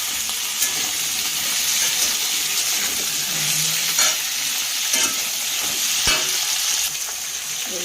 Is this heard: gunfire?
no